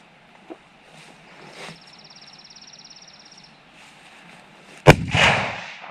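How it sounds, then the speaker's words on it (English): A single sharp, loud gunshot from a Ruger lever-action rifle fired outdoors, cracking once near the end and trailing into a brief echo, after quieter low rumbling and a faint buzzing insect-like tone. "You just keep shooting"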